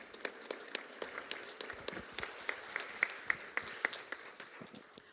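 Audience at a Social Security town hall in Fifth Street Baptist Church applauding its hosts, a soft, steady patter of many hands clapping together that continues throughout without voices.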